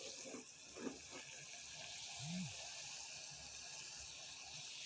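Water with giloy boiling in a pot for a kadha, a quiet continuous bubbling and hiss with a few soft gurgles and pops, heard alone at low level.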